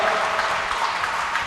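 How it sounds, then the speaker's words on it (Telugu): A church congregation claps loudly and steadily during a sermon, a dense, unbroken wash of many hands close by, with no pauses and no speech. "చప్పట్లు కొట్టండి గట్టిగా"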